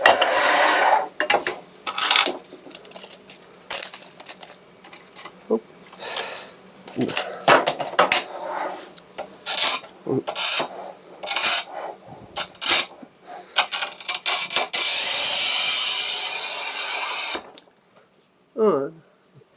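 Manual tile cutter scoring and snapping 1200 mm tile, with a string of sharp mechanical clicks, scrapes and ratcheting clatters close by, a long grinding score near the end and a brief voice.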